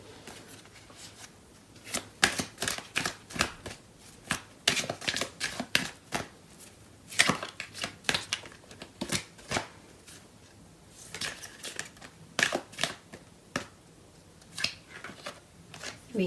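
Tarot cards being shuffled by hand, a steady run of crisp riffling and slapping strokes that repeat at an uneven rhythm, close and clear with no speech over them.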